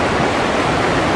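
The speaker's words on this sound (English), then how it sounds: "This is called the lower falls." Lower falls on a creek in British Columbia, a loud, continuous broadband rush of falling water heard up close with no other sounds.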